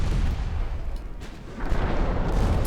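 High-explosive naval shells fired in World of Warships, a deep rumbling boom swelling again after a lull, heavy and close, with no talk.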